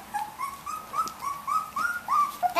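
A puppy whimpers in a string of high, wavering whines and short yips, close and fairly clear, repeating every fraction of a second.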